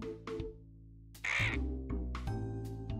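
A cartoonish crow caws in the Duck Detective video game, one loud harsh call near the middle over a steady musical game soundtrack.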